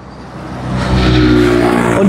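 Traffic on a street in Thailand, with a car engine growing louder as it approaches and passes close by, a rising whooshing roar over a low rumble, and no talk.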